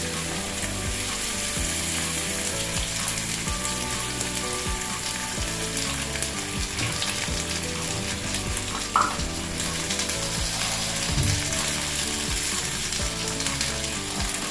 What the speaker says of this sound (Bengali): ওই জন্য মিক্সিতে একটু পেস্ট করে নিলাম। কাঁচা লঙ্কা, আদা আর টমেটো